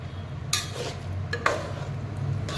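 A spoon knocks and scrapes inside a pot of curry gravy made with corn cobs, giving two or three distinct clanks over a steady low background hum, close by and without speech.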